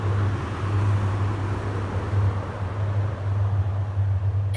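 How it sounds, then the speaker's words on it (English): A famous steel suspension bridge hums through its cables, a continuous deep resonant drone under a broad wash of traffic and wind noise, steady and fairly loud throughout. "A deep, resonant tone, vibrating through steel, carried by cables, suspended in air."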